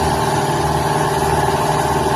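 The four-cylinder diesel engine of an IHI mini excavator idles steadily and loudly up close, a continuous low rumble with a mechanical hum and no pauses or talk throughout.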